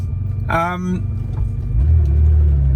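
A car cruises along a road heading out of town, its low engine rumble steady and close, swelling slightly louder toward the end, with a brief rising voice-like tone early on.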